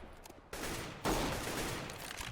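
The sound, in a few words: gunfire in CS:GO video game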